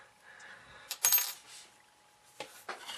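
A small model-kit die is pushed out of a tube and drops onto a hard surface, giving a few light, bright clinks and a short rattle near the mic. The sounds come in brief separate bursts, with no voices.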